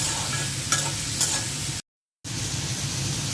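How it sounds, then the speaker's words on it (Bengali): Onion, garlic and salt fry together in a pan with a steady broadband sizzle, a couple of brief stirring scrapes, and a short dead gap midway before the sizzle resumes. "আর সাথে দিয়ে দিচ্ছি পেঁয়াজ, রসুন, লবণ দিয়ে দিচ্ছি। সব কিছু একসাথে ভেজে নেব।"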